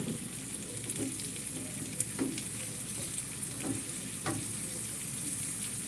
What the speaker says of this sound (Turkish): Ve peynirler kızardı arkadaşlar.